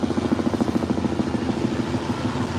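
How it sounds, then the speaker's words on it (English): Helicopter flying overhead, a steady close rotor thump with rapid pulsing beats and a droning engine tone throughout, loud and alone. "The helicopter flying overhead."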